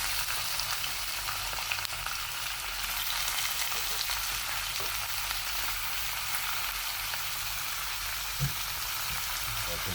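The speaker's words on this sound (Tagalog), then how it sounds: "Lagyan na natin yung ating pork belly." Pork belly for adobo frying in a pan, a dense, loud, continuous sizzle and crackle that holds steady throughout with occasional small pops.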